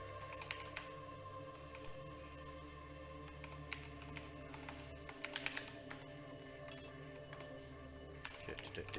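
Keyboard typing in a Fate/Extella Umbral Star game, a steady run of quick clicky keystrokes, with brighter clacks around the middle and toward the end, fairly close, with no voice over it.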